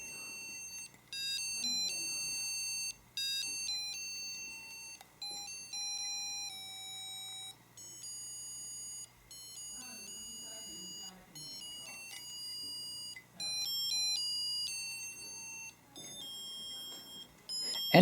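Light-activated singing musical mug plays its tune as a thin, faint electronic melody of quick beeping notes, running steadily throughout with soft background noise and no talk.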